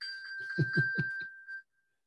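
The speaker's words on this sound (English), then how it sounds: "hit the button on your Apple Watch so that it will actually beep" An iPhone's find-my-phone beep, triggered from an Apple Watch, rings as a steady electronic tone for about a second and a half, with a few soft knocks and handling sounds underneath, then silence.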